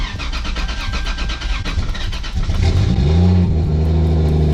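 A Toyota Supra sports car engine, unstarted for a week, cranks amid noisy broadband clatter, then catches and settles into a loud, steady low idle close by.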